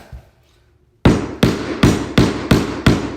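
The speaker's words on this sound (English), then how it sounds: "by simply tapping the board and applying pressure, it will begin to slide" A hammer taps a laminate flooring board into place: after a near-silent second, six loud, sharp knocks land at an even, steady pace, each ringing briefly, close up and alone.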